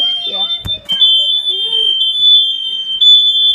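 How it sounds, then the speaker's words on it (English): A home smoke alarm blares a loud, steady high-pitched electronic tone with brief breaks in a repeating pattern, while a voice and an adult talk close by underneath it. "These smoke alarms sound just like these fire alarms have the same sound"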